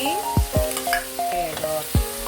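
Potatoes and carrots stir-fried in a pan, with sharp scraping strokes of a utensil and a steady sizzle, several distinct stirring hits spaced irregularly, close and clear without talk.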